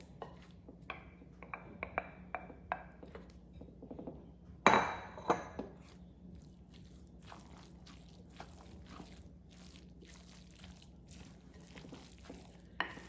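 Utensils and dishes clink and tap against a bowl as eggs, celery and onions go into a Southern-style chicken dressing. Light, scattered clinks sound close, with a sharper clatter near the middle over a faint steady hum.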